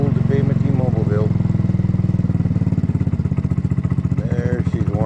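A carbureted Kymco People 250cc scooter engine runs steadily and close, with a loud, even low-pitched putter and faint clatter throughout, as it idles warmed up.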